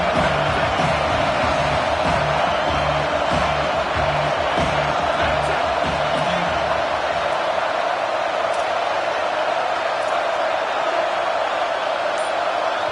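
A football stadium crowd roars loudly and continuously, with a dense wall of cheering that stays intense throughout and rhythmic stomping or chanting beats in the first half.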